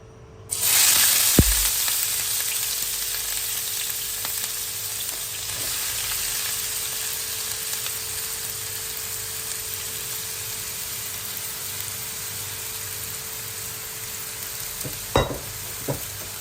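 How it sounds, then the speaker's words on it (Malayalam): Onion and green chilies sautéing in a pan give a steady, loud sizzle and hiss that runs throughout, with a brief stir or clatter near the start and another near the end. "പച്ചമുളകും സവോള ഒന്ന് വാട്ടിയെടുക്കാം"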